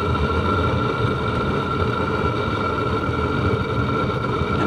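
A drip feed waste oil heater fires during a test burn through a 4-inch burner tube into a 6-inch flue, giving a steady, close rumbling roar with a broad rushing hiss, continuous and unbroken.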